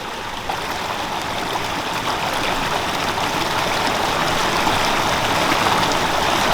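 Fire starter gear dunked into a flowing stream, with steady broadband rushing and babbling water filling the whole stretch at a constant, fairly loud level.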